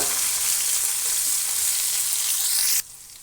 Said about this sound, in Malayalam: ഇതിലേക്ക് ഒരു തണ്ട് കറിവേപ്പില കൂടെ ചേർത്ത് നന്നായി ഒന്ന് വഴറ്റിയെടുക്കാം